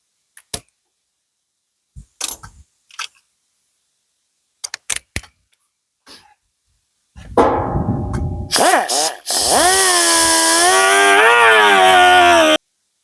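A power tool cuts into the metal of an aftermarket radiator core support panel, a loud, sustained whining grind with a shifting pitch that comes after a few scattered clicks and taps.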